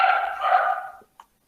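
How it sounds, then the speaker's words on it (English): Dogs bark in the distance, one sustained, blurred stretch of barking that fades out, then a single faint short yip. "Dogs also barking."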